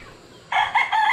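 A young gamecock stag, recently trimmed clean-cut, crows loudly and close by in a short burst that starts abruptly halfway through, with no talking.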